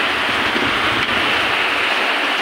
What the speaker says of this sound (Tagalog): Ang lakas talaga ng hangin.